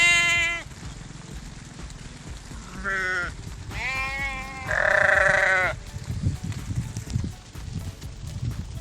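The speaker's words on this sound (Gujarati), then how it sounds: "આ માલધારી આવ્યા હે બકરા લઈને હાલ્યા જાય છે રોડે" A herd of goats driven along a village road by herders bleats in several short, wavering calls, some overlapping and fairly close, with low rumbling road noise and shuffling underneath.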